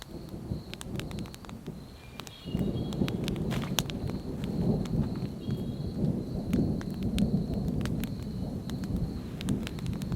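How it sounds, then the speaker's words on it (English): Rain patters steadily over a remote forest bushcraft camp during a thunderstorm, with low distant rumbles and scattered drips, growing a bit heavier partway through; no one speaks. "There's a thunderstorm out there, everyone. It's going away from us, but it's out there."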